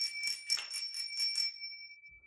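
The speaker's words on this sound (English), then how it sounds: "4 rings of the old bell here in the Emerald Isle." An old bell in Ireland is rung in a quick run of bright strikes, each ringing tone lingering before it fades into quiet.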